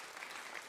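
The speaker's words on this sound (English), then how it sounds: "you're clapping for yourselves" Applause from a live audience at a folk and roots music concert, a dense, steady wash of clapping that stays even and fairly close throughout the short stretch.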